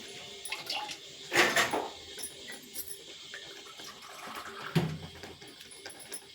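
Short splashes of water poured into a pot of buttermilk soup, two brief bursts separated by quiet kitchen ambience.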